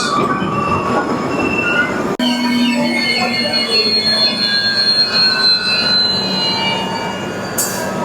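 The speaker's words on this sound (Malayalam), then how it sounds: "വിദർഭ എക്സ്പ്രസ്." The Vidarbha Express passes close by, with loud continuous rumble, clatter and squealing wheels, and a sharp jolt partway through as the carriages roll past.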